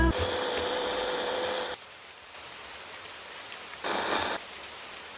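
Rain falls steadily on a surface, a close hiss of drops that swells louder in two bursts, one at the start and one near the end, with quieter patter between them.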